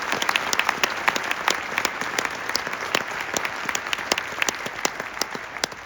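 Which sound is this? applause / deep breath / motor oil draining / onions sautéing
applause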